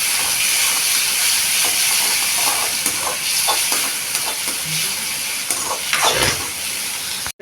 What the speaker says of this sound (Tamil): தக்காளியும் நல்லா வதங்கணும்.